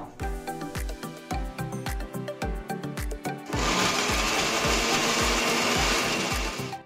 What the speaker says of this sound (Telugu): ఈ చల్లారిపోయిన పచ్చిమిర్చి టమాటాను కూడా మిక్సీ జార్లోకి తీసుకుందాం